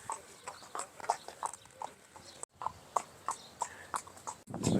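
A horse pulling a cart on a UAE organic farm trots at speed, its hooves clip-clopping in a quick, even rhythm close by, with a few short gaps in the sound.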